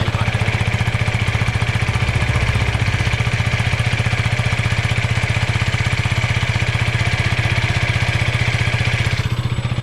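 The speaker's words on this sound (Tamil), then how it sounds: "நம்ம பைக் எடுக்கிறோன்னா ஃபஸ்ட்டு வந்து கோல்ட் ஸ்டார்ட் பண்ணணும்" KTM Duke Gen 3 motorcycle engine idling after a cold start, a steady rapid low thump with mechanical clatter, close and loud, running alone until a brief change near the end.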